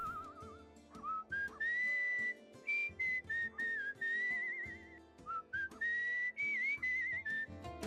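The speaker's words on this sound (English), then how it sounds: "Oh god, I suck at whistling" A person whistles a wavering, halting tune during a play session of Where the Water Tastes Like Wine, with short breaks between phrases over quiet background game music, close and fairly loud.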